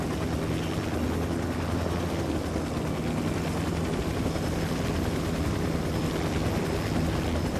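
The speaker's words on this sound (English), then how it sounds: "Helicopter inbound." A helicopter in the video game Ghost Recon Wildlands thunders with dense, constant rotor chop, loud and close throughout, with no speech over it.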